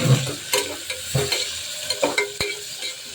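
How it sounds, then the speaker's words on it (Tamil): Onions sautéing in a pan with curry leaves and garlic: a close sizzle broken by repeated scrapes and knocks of a spoon stirring, with no voices. "ஸோ வெங்காயம் நல்லா வதங்கி வரட்டும், நம்ம வெயிட் பண்ணலாம்."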